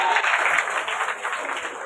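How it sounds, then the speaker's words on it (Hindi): Audience at an open-air Odia folk theatre performance of a devotional bhajan clapping briefly, a short burst of crowd applause with faint voices beneath. "थोड़ा ताली बजना चाहिए अगर ये गाना सुने हैं"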